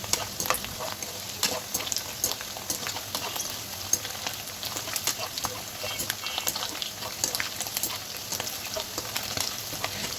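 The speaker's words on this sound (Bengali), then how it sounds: "খুব ভালোভাবে এগুলো ফ্রাই করব।" Dried mola fish shutki frying in a pan, a steady close crackling sizzle broken by scraping stir strokes, with a faint voice murmuring underneath.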